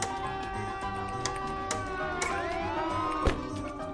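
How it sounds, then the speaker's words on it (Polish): A video game alarm siren rises in sweeping tones over a steady mechanical hum and ticking, moderately loud and continuous, with one sharp thump near the end. "Alarm się zrobił!"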